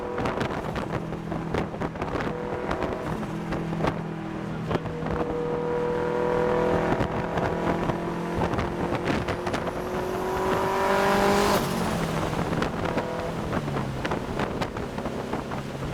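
A loud turbocharged Honda S2000 engine running with a fluttering turbo and wastegate sound and rising and falling revs, wind buffeting the microphone throughout.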